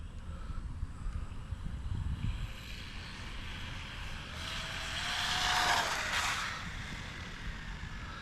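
A small Arrma Mojave Grom brushless RC car motor whines in from a distance, swells to a high-pitched buzz as it passes close at full speed around the middle, then fades away.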